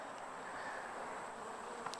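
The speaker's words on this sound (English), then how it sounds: "Now you look at the number of bees in this colony." Honey bees in an apiary colony hum in a steady, dense buzz close by during September hive work, faint but continuous.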